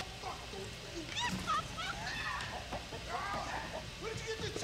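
Chicken clucking in a comedy film, with bursts of hen-like calls partly under overlapping talk and background noise throughout.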